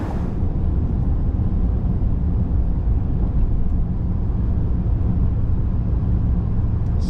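Steady, loud low rumble of road and engine noise inside the cab of a 2024 Chevy Silverado 3500 with the L8T gas V8, accelerating toward about 70 mph on a road, with no talking.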